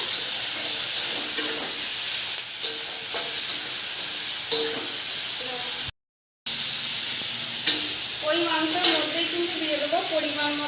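Meat frying in a pan with ginger, garlic, green chili, onion and tomato, giving a loud steady sizzle and hiss with occasional stirring scrapes, close up, broken by a brief silent gap.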